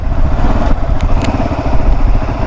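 An RX3 motorcycle engine runs close by with a loud, steady low rumble and slight clatter, heard alone without talk.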